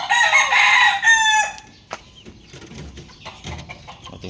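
A bulik rooster crows once, loud and close, in a long drawn-out call. Scattered quieter clucks and faint farmyard noise follow.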